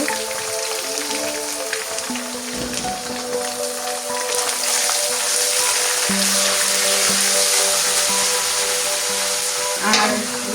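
Ginger-garlic paste frying in oil alongside fish pieces (katla fish being cooked for a mashkalai dal curry) gives a steady, loud crackling sizzle throughout, with faint stirring and a low hum underneath.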